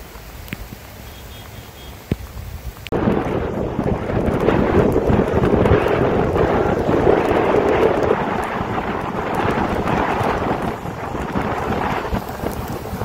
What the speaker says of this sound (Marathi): पावसाचे थेंब डोळ्यावर ते असे लागतात जसं काय कोण छोटी छोटी खडी फेकून मारते